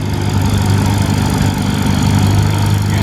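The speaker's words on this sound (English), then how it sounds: "Big four-cylinder in-house developed gasoline engine here in the Minneapolis-Harris 44, about 259 cubic inches." Massey-Harris 44 tractor with a big 259-cubic-inch four-cylinder gasoline engine running at an antique tractor show, a steady close low throbbing idle that stays loud and even.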